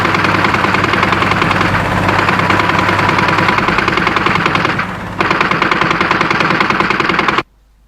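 A dense burst of rapid gunfire rattles loud and close in a drama scene, like a machine gun firing continuously for about seven seconds. It breaks off once briefly, then resumes before stopping abruptly.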